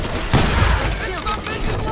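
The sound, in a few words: gunfire in street, video game Call of Juarez: Gunslinger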